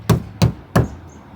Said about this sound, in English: Let's go ahead and whack the car